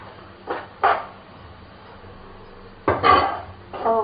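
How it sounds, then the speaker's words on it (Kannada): A cooking pan lid is lifted and handled while paneer bhurji cooks, giving a few short metallic knocks and scrapes, two near the start and two louder clanks near the end, with quiet pauses between and no talking. "ನಾವೀಗ ಕ್ಯಾಪ್ ತೆಗೆದು ನೋಡೋಣ ಹೇಗಾಗಿದೆ ಅಂತ."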